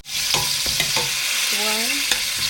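Meat stir-frying in a pan for a giant aubergine dish, with a loud constant sizzle, sharp scraping strokes of a utensil, and a short squeaky rising scrape partway through, all close up.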